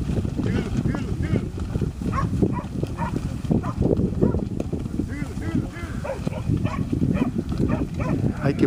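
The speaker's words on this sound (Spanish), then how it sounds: "Hay que mover todas esas vacas." A herd of cattle crossing Route 43 toward San Gregorio de Polanco, Uruguay, moos repeatedly and loudly nearby, with dogs barking and people talking in the noisy commotion.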